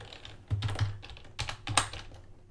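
Quick bursts of clicks from a computer keyboard, close and moderately loud, a few short clusters of keystrokes with no talk over them.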